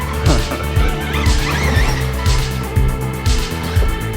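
An Arrma Outcast radio-controlled car with a damaged tire drives nearby, its electric motor whining loudly with repeating surges and a rhythmic wobble in the tone.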